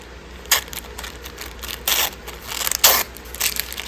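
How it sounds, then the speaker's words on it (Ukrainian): Small paper surprise packet being torn and opened by hand, a few quiet crinkling and ripping bursts spread over a few seconds with no talk. "Давайте відкриваємо пакетик."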